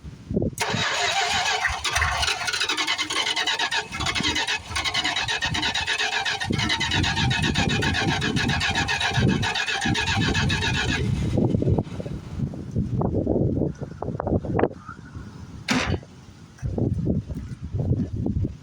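A 1973 Plymouth Fury III engine cranks hard and loud for a long stretch, its starter whirring rhythmically as it tries to catch, then it falls quiet into rougher, uneven sounds and a few clanks nearby.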